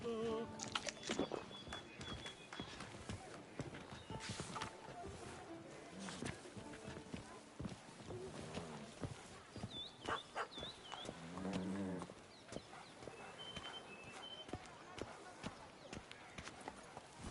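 Horse hooves clip-clop along in The Witcher video game, a steady walking rhythm running under a busy in-game soundscape with occasional voices and music-like tones.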